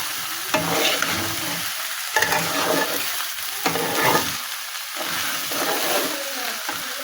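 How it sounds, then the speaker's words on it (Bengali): Basmati rice toasts in a wok, a constant hissing sizzle overlaid by bursts of scraping and stirring at irregular intervals, close and moderately loud. "চালটা ভাজা হয়ে গেছে"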